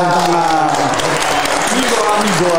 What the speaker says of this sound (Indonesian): Tepuk tangan galang,